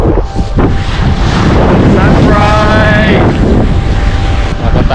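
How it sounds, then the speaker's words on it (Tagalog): Heavy, continuous wind roars and buffets the microphone on a Southern Leyte coast, with a flying drone's high whine rising in the middle and brief voices. "Ito kalakas na hangin talaga, delikado yung drone eh."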